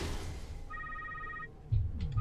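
A phone rings inside the game Secret World Legends, a brief electronic trill of harmonic tones lasting under a second, fairly faint against background noise.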